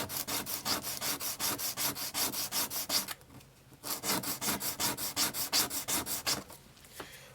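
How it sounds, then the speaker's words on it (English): Sandpaper of 120 grit rubs back and forth on the tip of a stone whistle, producing rhythmic rasping strokes, about four per second. The strokes pause briefly midway, then resume close and clear with no speech. "the sandpaper I gave you is 120 grit sandpaper, and you'll just kind of slowly work that tip down"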